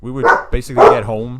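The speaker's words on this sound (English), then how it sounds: "and that's our dog." A pet dog at home gives two or three sharp barks close by, mixed in with a person talking over them.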